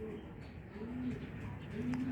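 Soft, low cooing from pigeons comes in a couple of gentle phrases over a quiet, muffled outdoor background on a very hot day.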